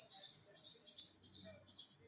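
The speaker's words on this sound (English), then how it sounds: "Oh, it's birds." Birds chirping in quick bursts, about five clusters of high, bright tweets spaced roughly half a second apart, fairly close and clear over a quiet background.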